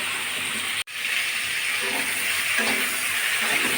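Pointed gourds (potol) frying in a pan with salt and turmeric, heard as a loud, steady hiss of hot oil broken once by a sharp click, close and continuous with no talk.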